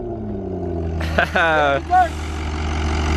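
A gutted Mitsubishi Eclipse engine runs without exhaust, a low steady rumble near by, while a person speaks briefly over it.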